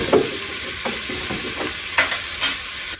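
Red beans with a sprinkling of flour and andouille sausage stirred in a pot, Louisiana style, giving repeated scraping, clattering stirs over a steady sizzling hiss, close and fairly loud with no talking.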